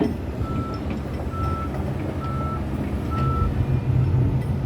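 Steady reversing beeps from a dump truck at a railway construction site, sounding at an even rhythm over a loud, continuous diesel engine rumble, with the heavy low-end growl building toward the end.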